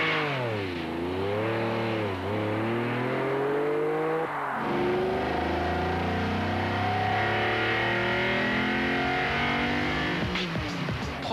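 A Lamborghini Diablo's 5.7-litre, 530-horsepower V12 revs hard and close, its pitch climbing and dropping through repeated throttle blips and gear changes before holding a long, steady high-rpm howl.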